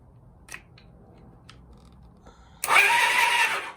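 A 1982 Honda CB450 motorcycle starter cranks as a screwdriver jumps the solenoid: a few faint clicks, then a loud, sustained whirring grind bursts in near the end and continues steadily.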